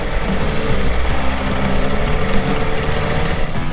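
A small boat's gasoline outboard engine idles roughly, a loud, close, continuous chugging rattle with an uneven knocking pulse and no voices.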